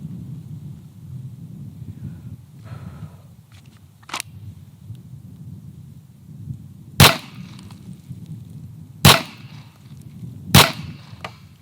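A handgun fires at target practice: several sharp, loud single shots spaced a couple of seconds apart over a low steady background rumble, with no talking.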